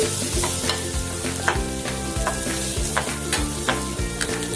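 Steady, crackling sizzle of food frying in a pan over a low-medium flame until light brown, with occasional clicks and scraping from stirring, loud and continuous throughout.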